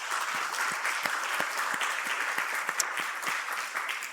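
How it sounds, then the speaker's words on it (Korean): Congregation at a Korean Sunday worship service breaking into steady applause, many hands clapping together at a moderate distance, even and continuous without speech. "우리 같이 박수하시겠습니다"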